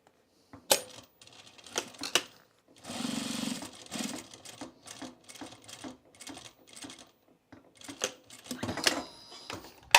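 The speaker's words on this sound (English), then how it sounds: "let's sew this one from the point out" A sewing machine stitches a fabric bowl cozy in short, rapid mechanical bursts with clicks and pauses between runs, close and fairly quiet.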